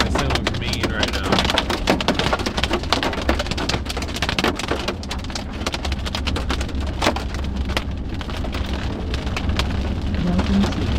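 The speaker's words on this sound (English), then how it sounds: "Hailing as we go back into Utah." Hail mixed with rain hammers a storm-chasing vehicle driving into Utah near the Idaho border during a severe storm, a dense, steady roar of impacts with sharp individual strikes throughout, close and loud.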